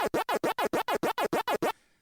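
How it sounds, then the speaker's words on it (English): A finger scratching the inside of an ear produces a fast, evenly spaced run of about a dozen loud rubbing pulses that stops abruptly into near silence. "if you take your finger and you scratch the inside of your ear,"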